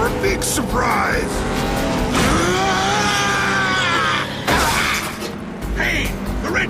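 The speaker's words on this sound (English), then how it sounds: "the red sports car that just flew by was Skybite" Animated race scene with a red sports car speeding past, a loud engine roar rising and sweeping by over a busy soundtrack, with voices speaking around it.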